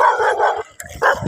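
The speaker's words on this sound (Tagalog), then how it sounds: "habol pa ng aso" A dog barks in quick, loud bursts close by while it chases a bicycle on a country road. Short yelps repeat with brief gaps between them. No one speaks.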